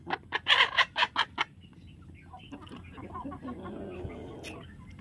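Hens fed azolla cluck in a rapid burst of close, loud calls, then settle into quieter, softer clucking and scratching, with no talk.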